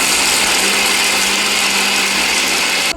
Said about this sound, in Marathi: हे वड्यांच्यासाठी तुम्ही बारीक करून घ्यायलाय का?